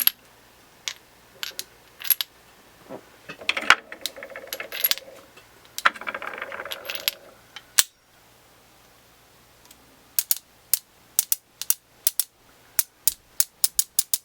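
45 Colt cartridges dropping one by one into the cylinder of a Ruger Vaquero revolver, each a sharp metallic snick, with a cluster of mechanical handling noise in the middle and then six rapid, evenly spaced clicks near the end.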